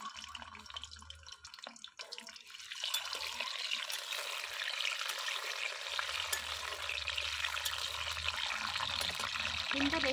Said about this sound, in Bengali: এবার ডিমগুলো লাল করে নেব।